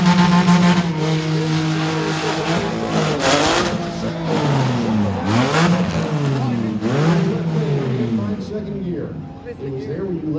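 A supercar with an IPE exhaust at a drag race roars past, its engine note rising and swooping through repeated revving gear changes, loud and close before fading, with a voice talking underneath.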